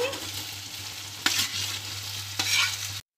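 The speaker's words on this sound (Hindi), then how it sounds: "पनीर को अच्छे से भून लेंगे। पनीर हमारा अच्छे से भून गया है और अब मैं इसमें डालूंगी ये मैंने आलू को बारीक काट लिया है, इन्हें डालूंगी।" Cubed paneer and chopped boiled potatoes sizzle in a hot pan, with two distinct stirring scrapes breaking through the steady frying hiss before it cuts off abruptly.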